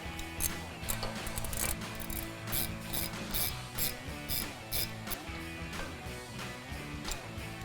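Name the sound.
ratchet tightening a T30 screw on a Silverado brake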